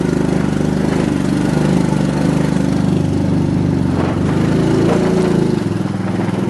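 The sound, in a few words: motorcycle engine while riding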